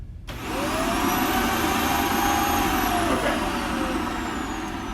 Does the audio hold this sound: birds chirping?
no